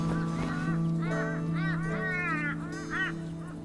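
Geese honk repeatedly in the video game Shardlight, a run of nasal, wavering calls over a steady low ambient hum.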